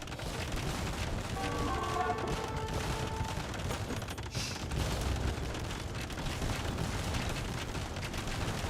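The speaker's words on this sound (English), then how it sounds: "Ah, so that's the sound of organ guns." Dense rumbling barrage of rapid organ gun fire and booms in an Age of Empires 2 battle, continuous and noisy with a brief whistling tone partway through.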